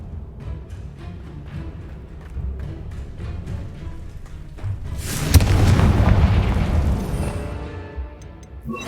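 A Confringo fire spell blasts in Hogwarts Legacy, a sudden loud explosive boom with a rumbling, crackling tail that swells and lingers for a few seconds after a quieter stretch of game ambience.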